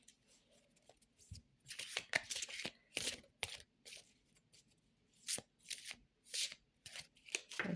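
Chakra oracle cards being drawn and shuffled by hand, with repeated crisp riffling bursts and flicks in quick clusters, fairly close and moderately loud, with no talking.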